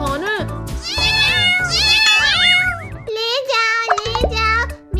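Animated kitten meows in a sing-song, wavering string of cries, loud and close, alternating with cartoon voices in a Hindi children's cartoon about eating mangoes.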